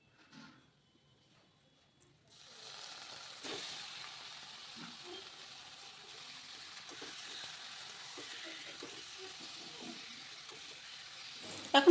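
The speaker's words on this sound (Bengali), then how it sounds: "এখন এবার যে চিকেনটা ম্যারিনেট করে রেখেছিলাম 1 ঘন্টার জন্য, সেটা এবার আমি দিয়ে দিচ্ছি কড়ার মধ্যে।" Yogurt-marinated chicken dropped into a hot kadai for a Bengali doi chicken, setting off a steady, soft, low sizzle that runs on quietly after a short silence.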